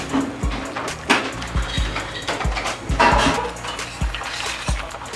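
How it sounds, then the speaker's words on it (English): Macaroni noodles being mixed with cheese sauce in a pot, giving repeated close clinks and scrapes of a utensil against cookware with soft wet squelches between them. "We just kind of like incorporate the cheese in the noodles at this stage."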